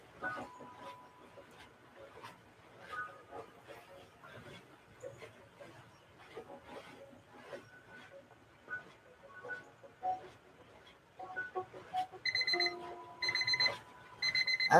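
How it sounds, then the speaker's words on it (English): Timer alarm at a live auction sounds near the end as rapid repeated electronic beeping in quick bursts, after a stretch of quiet background talk and clatter in the room. "Okay, there's the timer."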